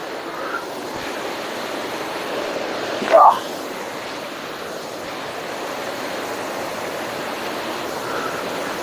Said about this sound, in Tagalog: Ito yung pangatlong falls dito.